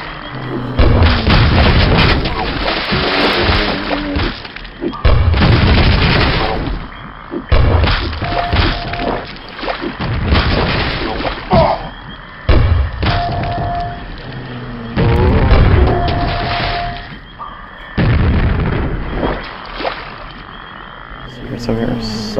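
Loud, booming explosions from rockets or grenades in the Quake 1 video game, a string of heavy blasts with gaps between them over game sound, with no talk.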